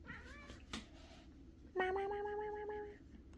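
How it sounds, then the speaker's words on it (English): A house cat lets out one drawn-out meow, fairly close but soft, after a sharp knock and some low background noise. "This cat goes hunting with me."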